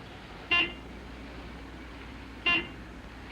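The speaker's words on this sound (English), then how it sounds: "what's that old dog catcher honking at us for?" Two short horn toots from a dog catcher's truck, spaced about two seconds apart, moderately close over a quiet background.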